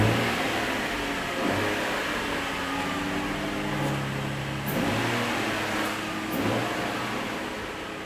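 A Nissan 350Z fitted with a carbon fibre air vent idles and revs in a steady, moderately loud drone with a few gentle swells in engine pitch, no voices over it.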